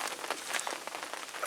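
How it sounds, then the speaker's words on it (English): Steady rain patters onto a surface at a fishing lake, a close, even hiss of drops with no voices. "so it is still raining"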